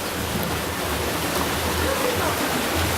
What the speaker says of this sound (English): And this looks like waterfall.